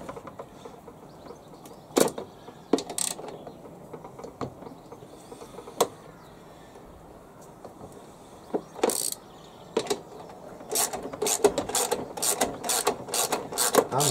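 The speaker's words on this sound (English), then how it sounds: "I've got a 12mm socket here on a ratchet, and I'll just remove this 12mm bolt first." A ratchet fitted with a 12mm socket works a 12mm bolt loose from under a plastic cover. Close, crisp clicking comes in short bursts that grow busier and more rapid toward the end.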